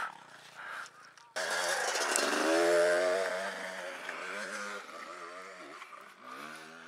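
A Kawasaki motorcycle on the Porcupine Rim trail in Moab bursts into a loud, close engine rev, climbing in pitch and then holding a rasping drone that eases slightly as it rides on.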